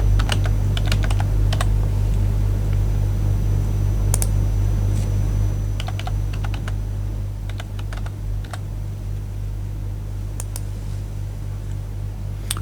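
Steady keyboard typing as a username is entered into a mobile asset-mapping app login screen, irregular clusters of close, crisp key clicks over a constant low electrical hum, with no talking.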